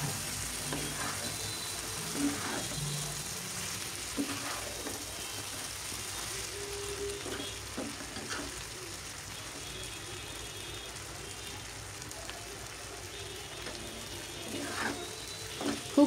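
Chicken noodles stirred in a pan, soft repeated scraping and light clicking over a low sizzle, quiet and close with no talk.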